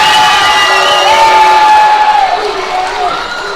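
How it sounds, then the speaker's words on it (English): Fans at a fight crowd-poll for the winner with loud cheering, shouts and some clapping that swell and then ease off. "A round of applause."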